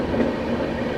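The 12559 Banaras–New Delhi Shivganga Express at a station platform gives a steady, close rumble of rail cars with a faint clatter of wheels, loud and continuous, with no voices.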